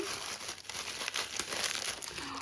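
Plastic bags nested inside one another crinkle and rustle continuously as a parcel is unpacked, a close, soft crackling texture with no talking.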